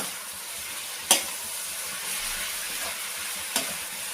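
Spring onion stalks fry in a pan with a steady soft sizzle, broken by two sharp scraping stirs of a spatula, one early and one near the end.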